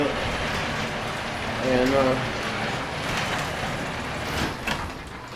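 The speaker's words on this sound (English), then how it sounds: "listen to all this stupid rain out here" Steady rain pours outside an open garage, a broad continuous hiss with scattered drops and knocks, while someone talks over it.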